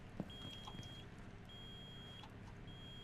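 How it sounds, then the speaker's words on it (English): A metal detector alarm in Rainbow Six Siege sounds as a thin, steady electronic tone, repeating in long beeps with short gaps over quiet background noise. "It was a metal detector."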